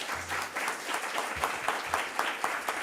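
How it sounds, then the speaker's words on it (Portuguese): Applause fills a municipal council chamber during an ordinary session, a steady spread of clapping hands at moderate distance with a brief low hum or voice beneath. "uma salva de palmas para você"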